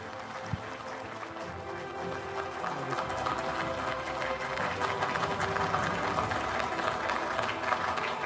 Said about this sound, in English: it just needs a standing applause, please